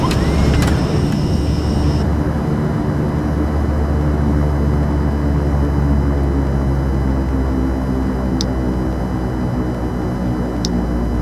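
Steady, loud propeller-aircraft engine roar with reverse thrust applied after touchdown in X-Plane 11, a continuous low rumble and drone holding throughout with no voices.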